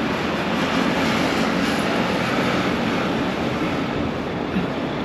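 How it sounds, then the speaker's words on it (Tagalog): A drone flies near a bridge at a tourist spot in Taiwan, giving a loud, steady whirring drone that holds unbroken for several seconds with no voices. "Palipad ako ng drone."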